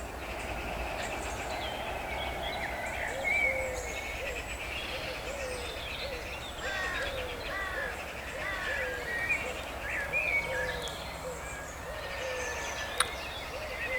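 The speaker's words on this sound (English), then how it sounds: "We could stand here and listen to the birds" Birds chirp and call outdoors, with scattered small calls over a constant rumbling background, fairly distant and with no one talking.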